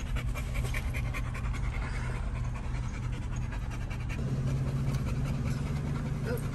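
Several dogs panting steadily and close by at an American Bully dog show, a continuous rhythmic breathy pant with a low engine-like hum underneath and no talking.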